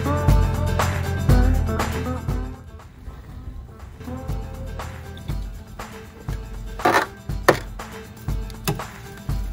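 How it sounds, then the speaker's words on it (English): Rotisserie-cooked chicken thigh gyro meat from a Kamado Joe grill being cut with a knife on a board, with repeated close chopping thuds in an uneven rhythm and some handling noise. "Okay, so we cut the meat."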